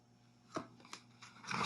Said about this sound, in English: I have to pull another card here.